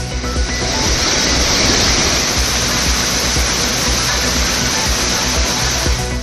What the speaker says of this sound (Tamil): 300 கனஅடியாக இருந்த நீர்வரத்து 5000 கனஅடியாக உயர்ந்ததால் ஆர்ப்பரிக்கும் அருவிகள்.